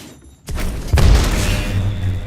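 A grenade thrown while wall-running in the shooter game Titanfall 2 goes off as a loud, close, booming blast followed by rumbling debris, after a brief quiet start.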